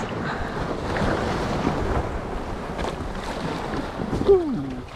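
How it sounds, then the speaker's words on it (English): Ocean waves wash and churn around a fishing kayak at sea, a steady broad rush mixed with wind buffeting the microphone, loud and close throughout. "There's a gap in the waves."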